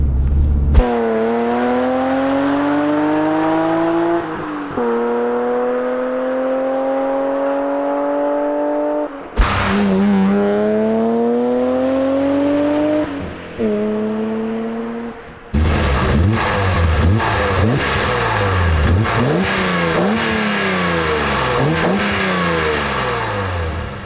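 A BMW E36 M3's S50 engine revs high, climbing and dropping repeatedly in several loud bursts, finishing with rapid, harsh throttle blips close to the microphone.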